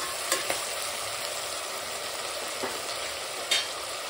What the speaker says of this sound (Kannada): ವೆಜಿಟೇಬಲ್ ಬೇಗ ಫ್ರೈ ಆಗ್ಬೇಕಂದ್ರೆ ಸ್ವಲ್ಪ ಉಪ್ಪು ಹಾಕೋಬೇಕು ರೀ